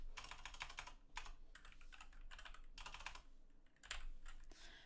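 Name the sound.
typing on a computer keyboard in Roblox Studio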